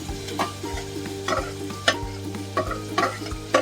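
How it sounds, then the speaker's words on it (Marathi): Onion being stirred into a mustard-seed tempering in hot oil for a Malvani raw-banana curry, with steady sizzling and sharp spoon scrapes and clinks against the pan at an uneven rhythm, close and fairly loud. "कांदा घालते फोडणीला"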